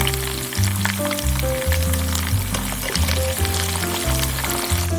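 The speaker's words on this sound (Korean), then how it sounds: "팬에 올리브오일을 넉넉하게 넣고 마늘과 페퍼론치노홀, 새우를 넣어서 2분간 끓여주세요" Shrimp, garlic and whole peperoncino sizzle in a generous pool of olive oil in a pan, a steady loud crackling fry throughout with no talk.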